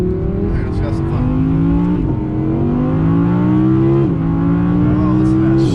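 A loud Audi R8 V10 Plus engine revs up through several gear shifts, pitch climbing then dropping at each shift, with a brief pause between runs.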